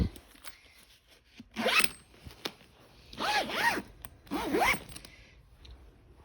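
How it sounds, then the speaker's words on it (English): A zipper on a packed carry-on bag is pulled closed in three quick rasping strokes. Each stroke sounds close and clear, with short pauses between them and no talking. "it zips up just fine"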